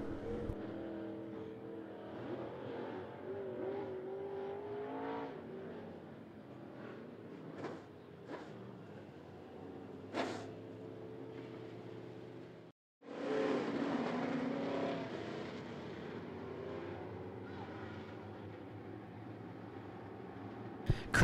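Late model stock cars racing at I-75 Raceway, a steady roar of many engines from a distance that cuts out briefly and then returns louder as the field comes around under green.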